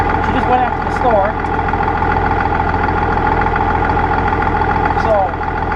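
An International Harvester 1586 tractor engine runs steadily at close range, a constant low mechanical drone that holds through the whole stretch while a person talks over it.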